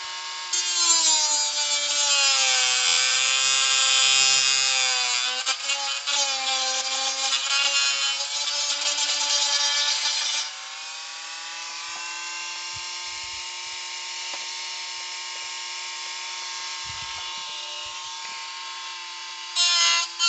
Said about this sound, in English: Alright, Dremel, I don't need but like a couple more minutes out of you and you can die peacefully.